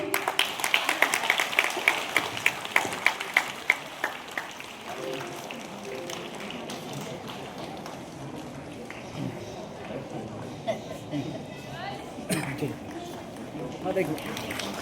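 Audience applause at a 25th priestly ordination anniversary celebration, sharp rhythmic clapping that is strong at first, then fades into a quieter background while someone speaks over it.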